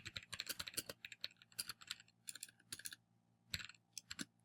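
Quick bursts of crisp key clicks as a heading is typed on a computer keyboard, close and fairly quiet, in uneven clusters with short gaps between them.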